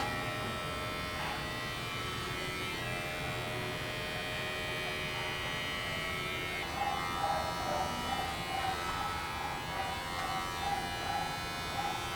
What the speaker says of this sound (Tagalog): Currently using yung ating hair clipper.